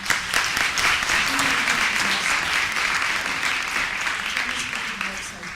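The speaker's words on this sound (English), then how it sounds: "just a big round of applause for our" A crowd gives a sustained round of applause for a media panel, a steady wash of clapping filling the whole stretch, with a voice faintly audible beneath it.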